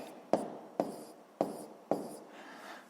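A pen writes on paper in four short, distinct strokes, each one starting with a sharp scratch and then fading, spaced about half a second apart and fairly close.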